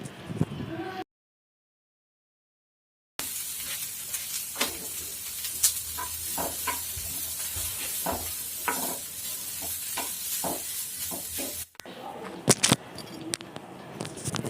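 Chopped vegetables sauté in a hot pan with a sizzling hiss and repeated scraping stirs of a spoon, briefly cut to silence near the start, with louder clattering toward the end.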